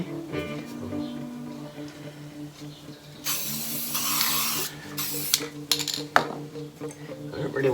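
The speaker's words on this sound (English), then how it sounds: "I'll spray away." A CHEMZ product is sprayed on a Series 1 AU Ford Falcon XR6 VCT Cobra in short, close hissing bursts, one longer spray and a few quick spurts, over faint background noise.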